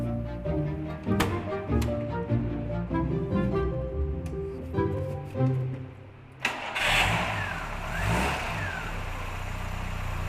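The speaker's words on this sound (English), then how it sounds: "And then it's the moment of truth, as we go for an engine start." A 1987 Ford Capri Laser, restored after decades stored in a barn, cranks and fires up, its engine catching with a sudden loud roar and then settling into a steady, close idle with some revving.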